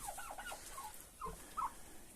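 Faint chicken and turkey calls in a quiet barn, a few short gobbling and clucking notes scattered over low background noise.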